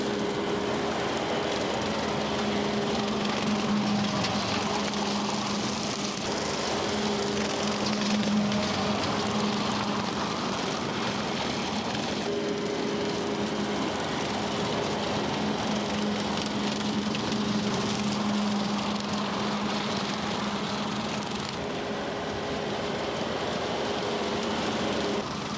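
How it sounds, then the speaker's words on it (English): A mower cuts a six-acre field with a steady, close engine drone and a faint hum underneath, running evenly throughout with no talking. "let's see if we can finish up this mowing."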